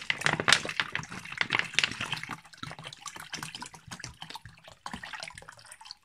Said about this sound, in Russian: Просто долью воды.